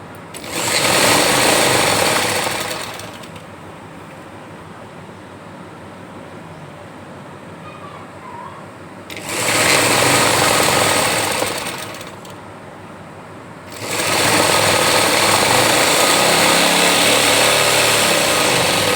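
Electric sewing machine stitching men's shorts, running in three loud continuous bursts of rapid whirring stitches separated by quieter pauses, close and steady.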